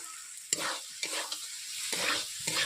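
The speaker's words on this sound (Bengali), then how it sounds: "এখন দিয়ে দিচ্ছি টমেটো কুচো" Chopped tomatoes hit a hot pan of papaya, potato and chickpea vegetarian curry with butter, giving bursts of sizzling frying and stirring that flare up repeatedly, close and steady, with no talking.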